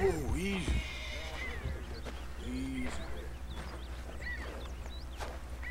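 A white Shire horse in Red Dead Redemption 2 whinnies loudly in a rising and falling neigh, followed by hoof clip-clops and a second, softer whinny, with faint ambient game sounds around it.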